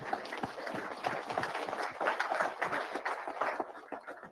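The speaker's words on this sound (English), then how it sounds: "Let's give him a round of applause." Applause from a crowd at a live driver meeting, a steady round of clapping filling the room for several seconds before fading.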